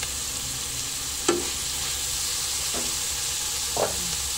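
Meat, boiled pork, sizzles in a pan, a steady loud frying hiss with a few brief scraping stirs, and no one talking.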